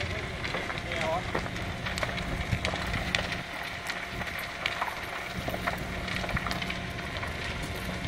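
A large tyre fire burns in Melbourne with a steady, dense crackling roar and scattered pops, wind noise mixed in, continuous and fairly loud throughout.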